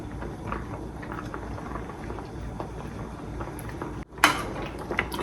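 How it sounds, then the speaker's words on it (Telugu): A pot of tamarind curry boils on the stove with a steady, soft bubbling and simmering hiss, followed by a brief clatter and a few louder knocks near the end. "ఇప్పుడు ఇది బాగా ఉడుకుతుంది కదా"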